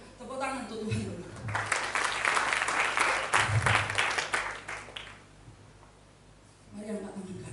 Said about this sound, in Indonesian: Tepuk tangan untuk Tuhan dulu.